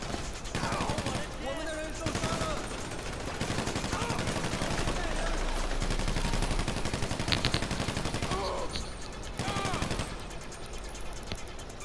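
A video game shootout brings sustained, rapid machine-gun fire with dense overlapping shots nearly throughout, loud and close, with players talking over the gunfire.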